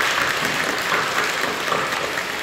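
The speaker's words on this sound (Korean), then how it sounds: "우리 박수를 격려해 주시죠." Congregation in a Korean church service claps in encouragement, a thick, continuous burst of applause that stays even and fairly close throughout.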